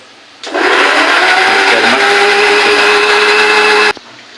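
A kitchen mixer grinder whirs loudly as it grinds gravy, starting abruptly, running at a steady high-pitched roar for about three and a half seconds, then cutting off sharply into quiet.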